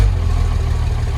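A 1989 Cummins diesel engine idling just after a cold start, a loud, steady low rumble with a rough, rhythmic throb and no talking.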